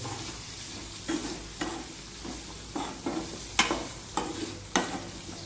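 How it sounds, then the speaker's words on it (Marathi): A vegetable is stirred in a pan with turmeric and chutney. A spoon scrapes and taps the pan at irregular intervals over a faint, quiet sizzle. "त्याकडे असं परतू व्यवस्थित"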